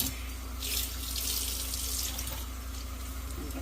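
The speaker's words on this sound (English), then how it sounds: "I'm going to give it a good rinse until the water runs clear." A sink faucet runs steadily as tie-dyed shibori fabric is rinsed under it, giving a continuous close splashing hiss of water that shifts slightly as the cloth moves, with no talking.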